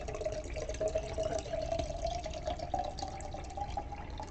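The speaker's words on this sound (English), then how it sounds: "That is me pouring a glass of beverage into a receptacle for that beverage." A glass being filled with poured mezcal, a steady trickling stream of liquid that runs continuously and fairly quietly, with no voices over it.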